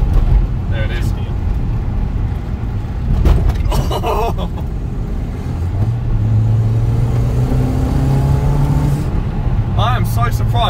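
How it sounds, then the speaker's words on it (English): A small turbocharged Toyota 3S-engined car on its first drive, engine rising in pitch as the turbo spools up, a steady loud drone with a bump thud partway, heard from inside the cabin. "I am so surprised at how well that turbo does spool up"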